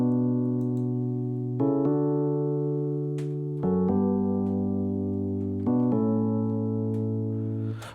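Afro house keys from the Launch Lizard preset play sustained, harmonically rich chords that change every couple of seconds, steady and full with no voices.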